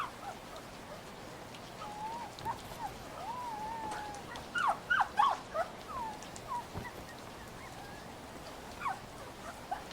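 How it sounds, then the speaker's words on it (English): A wet, cold puppy whimpers from inside a box during a storm: thin, wavering whines and short yelps come in scattered bursts over a steady wash of rain and wind. "A little puppy. You are all wet and cold."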